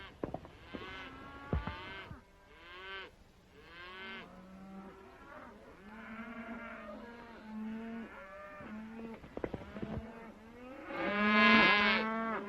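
Cattle on a mountain meadow low repeatedly in a 1937 Western, several drawn-out moos overlapping from near and farther off, with a louder close bellow near the end.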